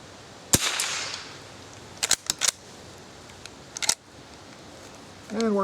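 A Remington Model 12 .22 rifle firing at cans outdoors, with one sharp crack followed a little later by several quick shots and another pair of shots, and faint ambient background between them.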